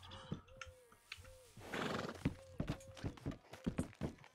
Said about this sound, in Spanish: he visto como que mi caballo ha saltado hacia el tuyo